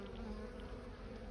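Honey bees buzz in a dense, continuous drone around hive frames from a shaken-down hive, a faint steady hum with individual bees passing close, without speech.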